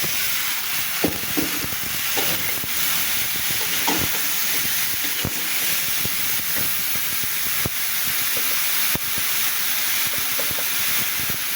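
Chopped bottle gourd dropped into a pan of lightly fried soybean chunks, giving a loud, steady hissing sizzle close up, with scattered clicks and scrapes from stirring throughout.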